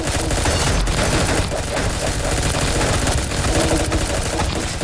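Dense, continuous rapid gunfire from the video game Pixel Gun 3D, loud and relentless with rattling automatic bursts throughout.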